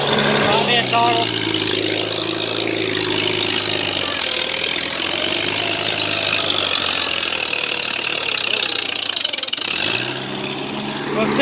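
Farmall C tractor in third gear pulling an Oliver plow, a steady mid-pitched engine drone that dips and shifts as the throttle changes, close and loud, with someone talking over it.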